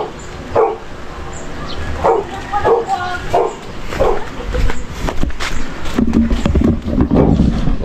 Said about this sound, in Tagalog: Ganda ng aso ni Adol, oh.